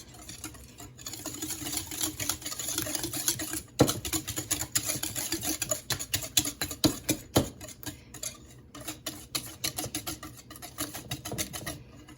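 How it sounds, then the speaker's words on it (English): Batter for blueberry zucchini bread being creamed and blended by hand in a bowl, a rapid, uneven clatter of tapping and scraping strokes that runs continuously at close range with occasional louder knocks. "we want to cream this together. Just blend it up nice."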